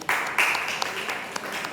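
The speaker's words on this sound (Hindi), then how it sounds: "ताली बजा दो एक बार" An audience of young students at a Tattvarth Sutra class clapping, with a short scattered burst of hand claps that fades out within about two seconds.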